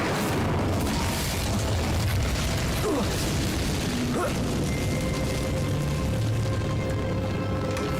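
Incendio fire spell cast in Hogwarts Legacy, a loud, dense rumbling burst of game sound effects sustained across the clip, with brief whooshing sweeps near the middle over a continuous low roar.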